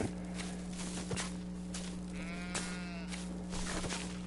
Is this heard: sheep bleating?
yes